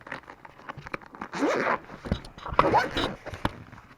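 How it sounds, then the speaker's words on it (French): A Nintendo Switch Lite case is opened with a zipper, two rasping zip pulls over handling noise and soft thumps, while a person speaks. "j'ai ici j'ai une Nintendo Switch Lite que je vais vous ouvrir tout de suite"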